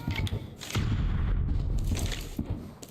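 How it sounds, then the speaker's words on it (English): Explosions boom in the background of the mobile shooter Arena Breakout Mobile, a few dull thuds and bursts over a dense, steady rumble of game noise. "Got some explosives going off in the background"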